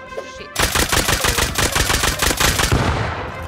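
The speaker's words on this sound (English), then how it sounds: "He's dead. Shoot him, Enardo." Automatic gunfire in the video game Rust: a sustained, rapid burst of loud shots in a steady rattling rhythm, close and dominant, lasting about three seconds after a brief quieter lead-in.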